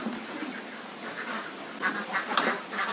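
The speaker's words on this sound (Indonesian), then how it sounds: "Oke teman, kita saatnya berikan pakan bebek." A flock of hungry ducks quacks repeatedly in the rainy season before feeding, a busy chorus of calls at moderate distance that grows denser toward the end.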